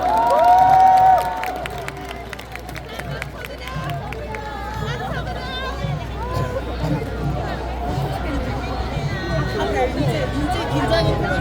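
A large outdoor crowd at a rally in front of the Constitutional Court claps and cheers, loud at first and then settling into a steady roar of applause, shouts and babble.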